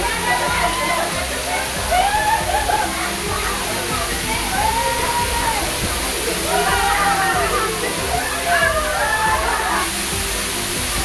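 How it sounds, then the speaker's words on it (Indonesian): A waterfall rushes and splashes continuously, loud and close, while voices carry faintly over the roar. "dihanyutkan oleh air terjun yang pertama"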